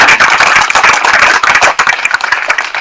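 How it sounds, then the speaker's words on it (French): Loud, dense applause from a large crowd at a political rally, the claps rolling on steadily without a break, then thinning a little near the end. "Il faut encore l'applaudir très fort."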